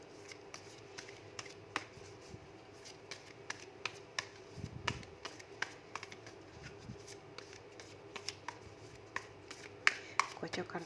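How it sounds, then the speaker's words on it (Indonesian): Playing cards being shuffled by hand: a run of light, crisp taps and riffles, close and fairly quiet, with the odd louder snap over a low background hum. "Kocok kartunya."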